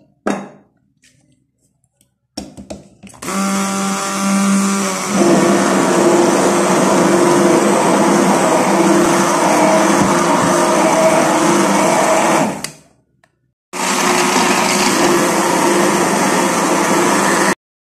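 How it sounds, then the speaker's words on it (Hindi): A kitchen blender whirs through a strawberry ice cream mixture tinted with red colouring, running loud and steady in two long bursts separated by a short pause, with no talking. "और दोबारा से ब्लेंड करेंगे।"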